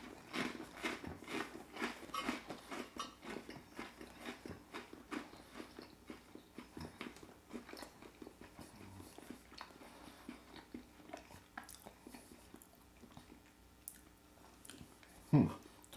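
Crunchy toast topped with cashew halves and Tunworth cheese is chewed close up, giving a steady run of dry crunches and bites that ease off over about sixteen seconds, with no talking.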